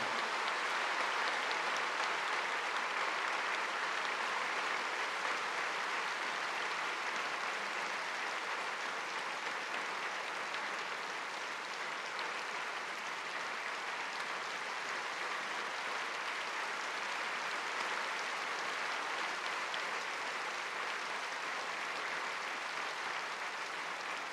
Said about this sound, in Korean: 성도님께서는 큰 박수로 함께해 주시기 바랍니다.